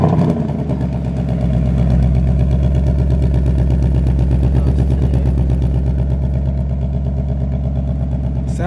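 A 2019 Ford Mustang GT V8 with an X-pipe exhaust, warm start, fires up and settles straight into a loud, deep, steady idle, its lumpy rumble pulsing evenly throughout.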